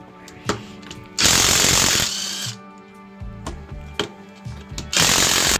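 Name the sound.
taking the wheels off a car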